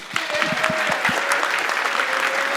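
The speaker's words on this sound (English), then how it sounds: "That's it, keep clapping." A crowd at a summer program finale claps their hands together, starting with several distinct rhythmic claps that blend into steady, fairly close applause, with a faint tone humming underneath.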